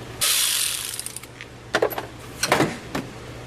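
Ratchet wrench with an 8mm socket clicking in short bursts while loosening bolts on a motorcycle cam chain cover, close and quiet, with brief gaps between the strokes.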